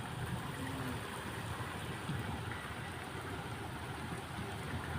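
Rain begins falling in Saudi Arabia, a steady, even hiss of drops on surfaces that holds at a low, constant level with no voices.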